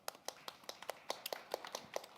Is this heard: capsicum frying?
no